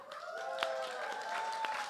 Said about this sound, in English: please hold space and give a round of applause for them